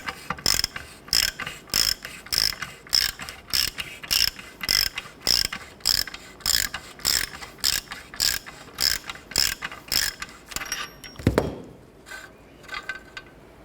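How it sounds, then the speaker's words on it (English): A ratchet works an O2 sensor loose on a 2008-2012 Honda Accord during a front catalytic converter job: a close, steady train of sharp clicking bursts repeating for about ten seconds, then one heavy clunk and quiet. "So we'll go ahead and loosen our O2 sensor here and go ahead and spin that out."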